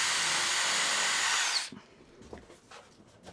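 A power drill whines steadily at full speed for about a second and a half while pre-drilling screw holes in wood for a saw vice, then stops abruptly, leaving a few quiet knocks and handling sounds.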